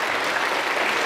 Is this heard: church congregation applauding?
yes